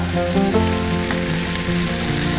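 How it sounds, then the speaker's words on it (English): Prosciutto slices frying and crisping in a pan, a loud continuous sizzle and crackle close up, with no talking. "Kind of want the prosciutto to crisp up"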